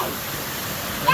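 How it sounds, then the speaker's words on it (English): Steady broadband rushing of a waterfall, loud and continuous, filling the background with a brief louder burst near the end. "I think it's a waterfall"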